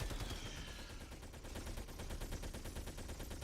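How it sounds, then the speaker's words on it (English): Machine Gun Sentry in the video game Helldivers fires a continuous rapid burst of gunshots, evenly spaced and fairly quiet, with no talk. "Did they change the sound on the Machine Gun Sentry, or is this game just having a glitch?"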